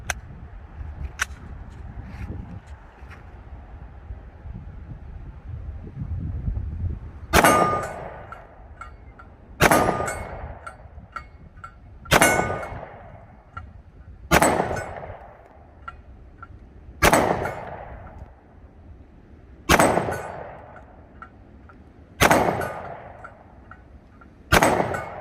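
A Springfield XDM Elite 10mm pistol with a 3.8-inch barrel fires 180-grain full metal jacket range ammo in eight loud, sharp shots spaced about two seconds apart, each followed by a ringing decay.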